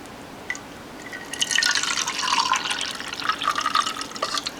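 Beef stock poured into a pot of rice for dirty rice, faint dripping at first, then a steady trickling splash of liquid that swells and ripples for a few seconds, with no talking.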